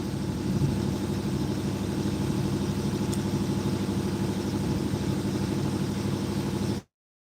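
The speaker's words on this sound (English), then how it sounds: "That's cruise boat sound." A cruise boat's engine running, a steady, even low droning hum that continues unchanged until it cuts off abruptly near the end, with no talking.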